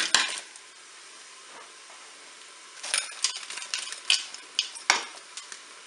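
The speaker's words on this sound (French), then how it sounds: "Maintenant, je vais ajouter eh bien, mes carottes." Carrots tipped into a Cookeo multicooker pot on its browning setting, with a soft sizzle followed by a run of scraping stirs and clinks of a utensil against the pot, close and fairly loud.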